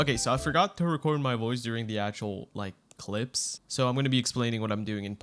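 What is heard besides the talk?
No everyday noises stand out.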